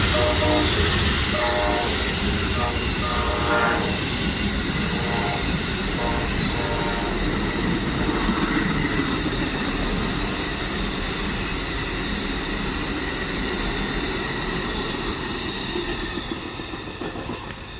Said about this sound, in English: This is Amtrak 92 coming